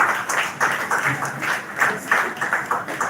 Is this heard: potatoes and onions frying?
no